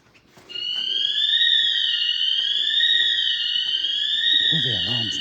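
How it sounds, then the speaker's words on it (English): A loud, continuous electronic alarm sounds steadily in an abandoned Toys R Us store, starting abruptly after a brief quiet moment, with a voice heard faintly near the end. "Bloody alarms, man."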